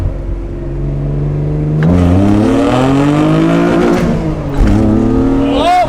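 A rebuilt junkyard Honda NSX accelerating hard on a pull, its engine note loud and close, climbing steadily through the revs with a brief dip at a gear change before rising again.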